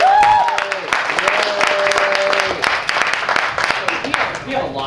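An audience at a public meeting applauding, with dense clapping running throughout and voices speaking over it.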